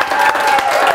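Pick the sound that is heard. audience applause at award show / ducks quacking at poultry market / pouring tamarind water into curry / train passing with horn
audience applause at award show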